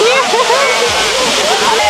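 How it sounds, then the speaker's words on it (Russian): Steady roar of a waterfall close by at a descent into the water on Samui, Thailand, with sloshing and splashing throughout; a voice speaks briefly over the rushing water. "Мы подошли сейчас к спуску, очень близко к водопаду."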